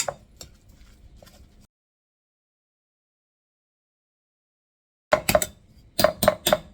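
Tuna cake mixture with potato is stirred in a bowl: a short stretch of soft clinks, then silence, then two bursts of quick, sharp utensil taps against the bowl, close and distinct.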